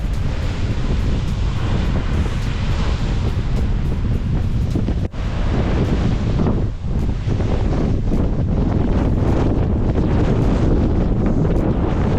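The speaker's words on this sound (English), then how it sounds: "the ocean was utterly restless, and tall, upshot waves continuously sprayed us with mist" Restless ocean surf and strong wind on the Oregon coast, loud and continuous with heavy wind buffeting the microphone and waves surging and spraying throughout.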